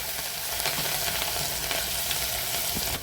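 Sesame seeds, curry leaves and chopped green chillies hit hot oil in a pan, giving a dense, close, continuous crackling sizzle with bursts of spitting and light stirring scrapes, no voices.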